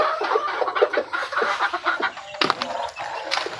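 A mother hen on a backyard poultry farm clucks in quick, close, repeated bursts, with rustling in the background.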